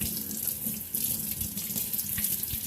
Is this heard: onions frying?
no